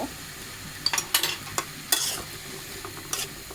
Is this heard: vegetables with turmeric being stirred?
yes